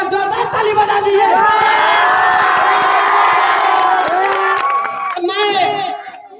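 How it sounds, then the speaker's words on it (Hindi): A large crowd at a village tournament in Gorigama claps and cheers loudly, with children shouting and whooping through a sustained roar that cuts off briefly near the end before a final burst of yells. "आप लोग एक बार जोरदार ताली बजा दीजिए।"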